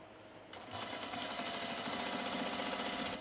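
A sewing machine stitches a sunblock top, starting after a brief pause and running in a fast, even mechanical rattle, close and steady.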